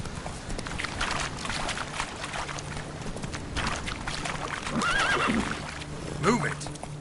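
Horse in Elden Ring whinnying with a rising call mid-clip, over busy game ambience, clopping hooves and a brief voice.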